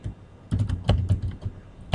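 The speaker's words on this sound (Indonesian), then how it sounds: "Saya input nama saya input dengan cara mengetik" Keys clatter on a computer keyboard in quick, uneven bursts of close, crisp taps, with a brief pause before the typing starts.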